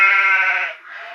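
Sheep bleating in one loud, sustained, wavering cry that falls away near the end, heard close and alone with no talk.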